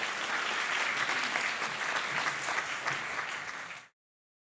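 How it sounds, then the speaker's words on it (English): An audience at a food-writing legacy event applauds warmly, dense sustained clapping from a crowd that stops abruptly near the end. "let us give her a warm applause"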